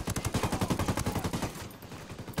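Rapid automatic gunfire from the video game Ghost Recon: Wildlands, a dense burst of loud, closely spaced shots rattling for over a second before cutting off, followed by quieter game ambience.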